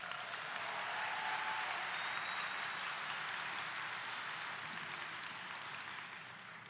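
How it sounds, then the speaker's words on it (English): A medical school white coat ceremony audience gives a round of applause, a broad steady wash of many hands clapping throughout, moderately distant in a large hall and slowly tapering toward the end. "Let's give them another round of applause."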